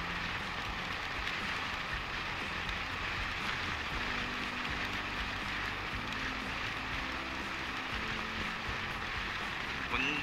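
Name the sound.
rain while riding on the road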